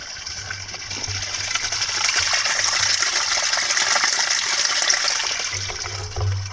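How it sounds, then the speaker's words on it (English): Water rushes steadily over rocks, a bright continuous gush of a flowing mountain spring in the Catskills near Giant Ledge, close by and fairly loud throughout. "Decent amount of water running through there."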